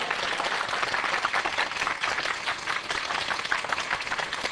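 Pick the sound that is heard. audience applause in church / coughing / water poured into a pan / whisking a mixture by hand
audience applause in church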